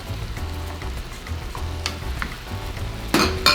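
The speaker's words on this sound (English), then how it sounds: "I keep on stirring" Green beans and chicken fry in a pan, giving a close, steady sizzle broken by occasional stirring scrapes and a louder clatter of the utensil near the end. No one speaks.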